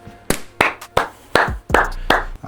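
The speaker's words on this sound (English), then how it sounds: "I'm clapping for myself, I guess, at this point" A person claps by hand several times while building an all-AMD gaming PC, giving sharp, close, loud claps at an uneven pace with short gaps between them.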